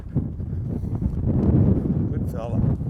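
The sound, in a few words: wind blowing outdoors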